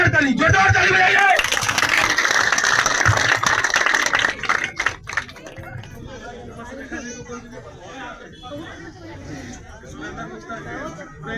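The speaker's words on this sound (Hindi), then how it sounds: "और जोरदार ताली बजाइए।" A rally crowd gives dense, loud applause for about four seconds. It then fades into scattered claps, murmuring chatter and a speaker's voice.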